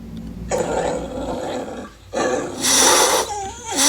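Dogs growling and fighting, a loud, close, continuous mass of snarls and rough roaring growls that swells and surges in bursts with a brief dip partway through.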